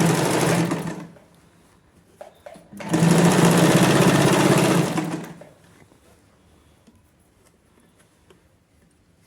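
Close and loud, a sewing machine runs two steady bursts as it stitches a hidden pocket onto the lining of palazzo pants, with a brief pause between them and then near quiet with faint handling.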